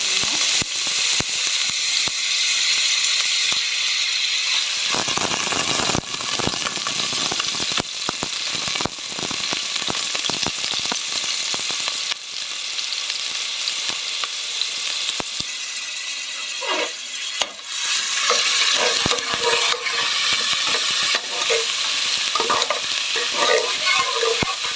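Oil sizzles and fries in a large pot while rice is prepared, a loud crackling hiss with scraping stirring strokes and bursts of spattering throughout, no voices.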